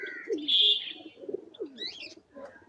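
A pigeon at a busy pigeon market in Khalishpur, Khulna gives short low coos and brief chirps, close and fairly loud, with a few higher calls from nearby birds in a quiet gap.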